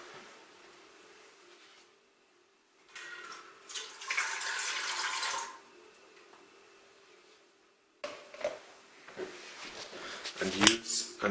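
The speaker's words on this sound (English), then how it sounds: "put in around 1 centimeter of water" Water runs from a tap into a pressure cooker in two bursts, a splashing pour of about two and a half seconds, then after a pause clattering and further trickling, close and moderately quiet.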